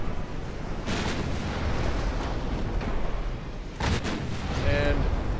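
Warship guns firing at close range in the naval game Ultimate Admiral Dreadnoughts, two heavy booming salvos over a constant low rumble of battle noise, with a brief tonal whine near the end.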